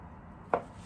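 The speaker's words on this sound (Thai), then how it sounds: "หั่นบางๆได้นะฮะ" A single crisp knife stroke thinly slicing an ingredient for a Thai boiled-egg salad, one short sharp cut against a quiet kitchen background.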